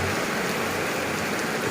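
Heavy rain pours down in a steady, dense hiss with no breaks, a broad even wash of sound and no voices.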